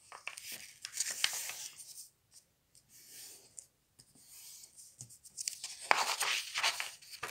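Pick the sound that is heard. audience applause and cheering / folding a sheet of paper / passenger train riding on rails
folding a sheet of paper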